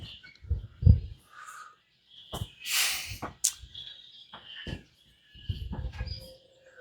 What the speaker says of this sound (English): Lots of gulls here today, so you might hear those while we're going through.